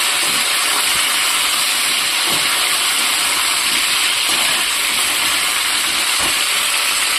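Vegetables poured into oil over panch phoron tempering fry with a loud, steady hissing sizzle that stays dense and unbroken throughout, with faint low knocks now and then and no voices.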